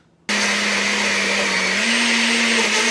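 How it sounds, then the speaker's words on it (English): A blender blending ingredients with a little water for Nigerian yam porridge switches on abruptly and runs with a loud, steady whirring drone, its pitch rising slightly partway through. "I'm gonna add a little bit of water just to help the blender move."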